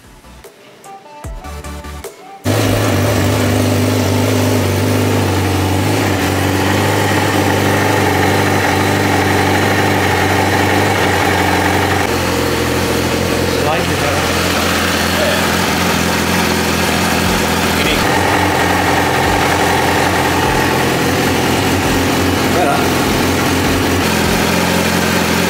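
Yamaha R6 motorcycle engine idling after its throttle bodies were synced, settling into a steady, even idle that runs close and loud without a break after a brief rough start, with no talk over it.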